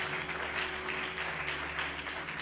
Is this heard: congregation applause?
yes